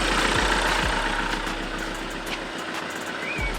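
A Volkswagen Scirocco engine idles steadily after an air intake upgrade, giving a loud, close, continuous low rumble with an audible intake note and no talking.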